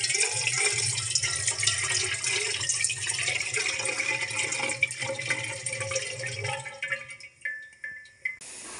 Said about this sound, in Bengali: এখন হাঁড়ির মধ্যে পানি দিয়ে দিচ্ছি।